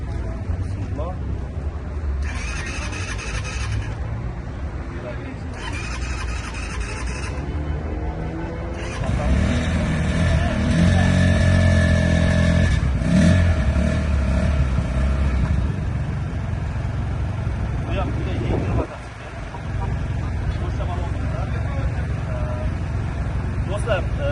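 A 250cc radiator-cooled motorcycle engine starts and settles into a steady running hum, then revs up louder for several seconds before dropping back and climbing again, with a continuous throaty drone close by.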